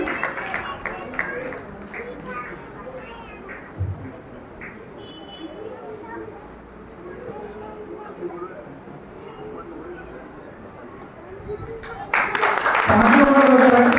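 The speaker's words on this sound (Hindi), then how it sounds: "एक बार जोरदार तालियां हमारे अदिति आंटी के लिए" Applause breaks out loudly near the end, after a stretch of quiet murmuring and movement, as a ceremony crowd claps for Aditi Aunty at a thanksgiving event at the Mahavir Jinalaya temple in Sagar during Daslakshan Parva.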